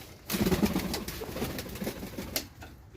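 Domestic pigeons coo in a loft on a pigeon farm in Jashore, several close, throaty, repeated coos overlapping in a steady burbling chorus with no talk.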